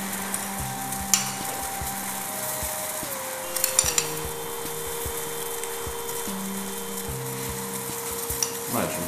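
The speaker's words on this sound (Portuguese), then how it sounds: "Agora que já temos o sauté flamejado, vamos começar por adicionar açúcar" Sugar goes into a flambéed sauté for crepe Beirão, and the pan sizzles steadily while a utensil scrapes and taps against it in irregular strokes, with no talk.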